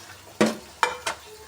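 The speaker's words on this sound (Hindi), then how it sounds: "अब हम जो है ना कीमे को मसाले में अच्छे से मिक्स करेंगे" Half a kilo of minced meat stirred into masala in a hot pan, with four sharp scraping stir strokes over a soft, steady sizzle, close and fairly loud.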